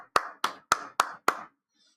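Five slow, evenly spaced hand claps, close and crisp, followed by silence.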